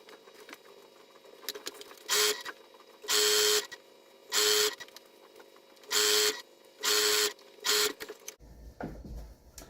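A home sewing machine stitches fabric pieces for a DIY fabric mat in short, loud bursts of rapid whirring, about six runs separated by pauses and small handling noises, heard up close.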